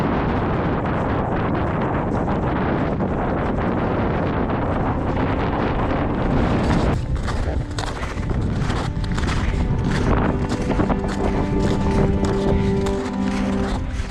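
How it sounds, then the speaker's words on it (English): Strong cold wind on a mountain hike around minus 10 degrees, roaring in loud continuous buffeting gusts against the microphone for the whole stretch. "it is very windy"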